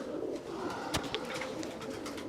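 Pigeons being let out of a loft at night coo softly in the near distance over a steady background rustle, with a few sharp clicks and flutters.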